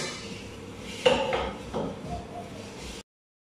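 Sticky rice (malagkit) being stirred in a pot for biko, with a few scraping, clanking knocks of a spoon against the pot over a quiet kitchen background, one sharper clack near the start.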